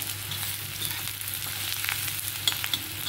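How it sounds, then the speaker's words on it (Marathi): Chopped onion fries in oil with a garlic tempering for chana dal pithla, a steady close sizzle with soft scraping stir sounds and a couple of brief louder pops. "आता हे लसणाच्या फोडणीमध्ये कांदा आपल्याला लाल होईपर्यंत परतायचा आहे"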